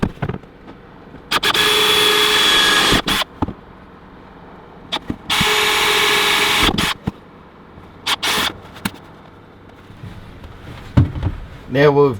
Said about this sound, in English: now let's drill all our pilot holes